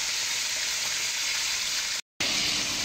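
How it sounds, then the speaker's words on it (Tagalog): Pork steak frying in a pan, a loud, dense, continuous sizzle of hot oil that fills the whole stretch, broken only by a brief dropout near the end, with no voices. "bali pinipirito na natin ang ating pork stick"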